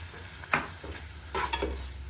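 Seasoned pasta ingredients sizzle in a frying pan while being stirred, with a soft, steady frying hiss broken by a few scraping stirring strokes close by.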